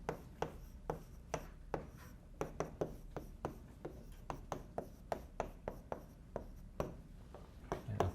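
Chalk or marker writing on a board during a nonlinear control systems lecture, a quiet series of short taps and strokes in an uneven rhythm, close and alone.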